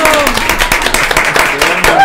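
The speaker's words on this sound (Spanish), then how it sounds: "¡Aplausos, por" A studio audience claps during an interactive tarot show, a lively burst of many hands with voices talking and exclaiming over the applause, loud and close.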